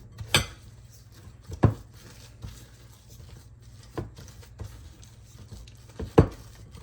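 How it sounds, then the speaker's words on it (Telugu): Egg-white foam is gently folded into almond cake batter in a bowl, with scattered soft taps and scrapes of a spoon against the dish, several sharper clinks standing out over a quiet background. "సో ఈ ఫోమ్ని ఈ బ్యాటర్లో మనం మిక్స్ చేసుకోవాలి"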